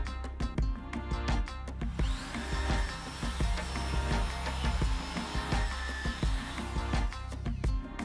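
Corded power drill with hammer action switched off, run carefully at controlled speed while boring into the metal of a shisha during restoration; a continuous loud whine with rough, pulsing grinding and repeated bursts across the whole stretch, no talking.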